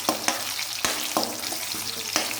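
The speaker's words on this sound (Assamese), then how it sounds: "তো অলপ পাঁচফোৰণ দি দিলোঁ আৰু তাৰপিছত এইখিনি অকণমান ফ্ৰাই কৰি লওঁ।" Panch phoron spices frying in hot oil in a pan, a steady close sizzle broken by several sharp stirring clinks and scrapes.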